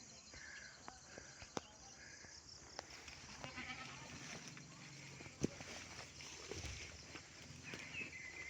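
Goats kept beneath a house bleat faintly and intermittently at a distance, with crickets and soft rustling in the quiet rural background.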